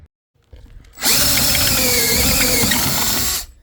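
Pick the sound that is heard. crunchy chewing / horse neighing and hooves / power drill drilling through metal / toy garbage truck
power drill drilling through metal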